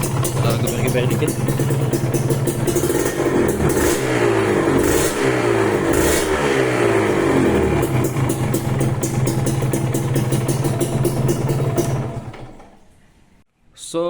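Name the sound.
Kawasaki Ninja RR two-stroke revving with JP Racing carbon exhaust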